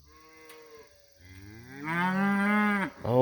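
A six-year-old cow bawls and moans loudly during a cattle move on pasture, one long drawn-out, rising moo following a softer lowing call, close and alone with no talk.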